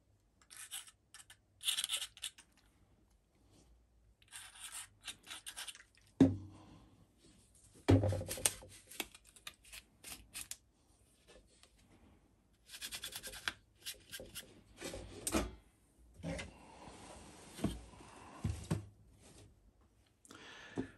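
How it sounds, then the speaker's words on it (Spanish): Intermittent rubbing and wiping strokes, a cloth soaked in isopropyl alcohol scrubbed across a broken racket frame in short bursts separated by quiet pauses. "Vamos a limpiarla con alcohol isopropílico, a ver qué tal está."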